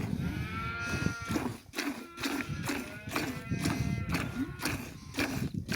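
A cow lowing repeatedly on a village farm, several drawn-out moos in close succession, fairly near, with rural background noise and no talk.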